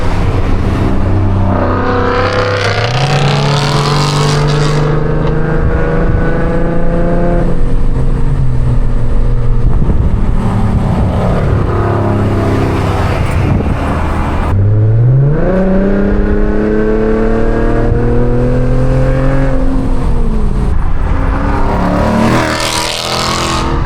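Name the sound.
straight-piped Infiniti Q50 car exhaust accelerating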